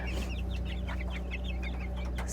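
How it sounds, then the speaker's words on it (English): Several small chicks, part of a backyard farm flock, chirp and cluck in quick high bursts over a steady low background hum, close by and fairly continuous. "So we have a total of 15 of these smaller chicks."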